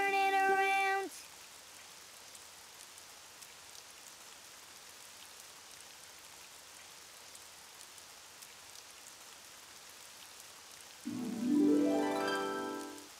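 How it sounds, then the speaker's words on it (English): Steady, soft rain patters continuously for a long stretch, with a brief musical sound at the start and end. "Oh, it's raining outside."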